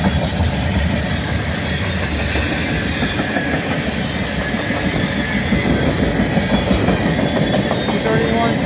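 Northbound manifest freight train hauled by CN ES44DC and C44-9W locomotives, passing as a steady loud rumble with continuous clickety-clack of wheels over rail joints and occasional squeal, close by.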